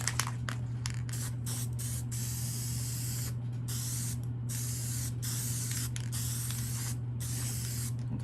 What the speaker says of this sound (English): I usually spray around this because I know this is where the hat gonna be right here